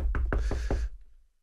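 Four sharp knocks on a door in quick, even succession, close and loud, followed by a short fading tail into silence.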